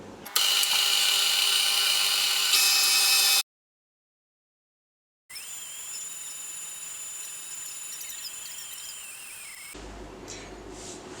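An electric mixer whirs loudly as it churns 600 grams of thick cream into butter, with a steady motor drone, then a gap of silence, then a second stretch of mechanical whirring with shifting pitch before ending abruptly.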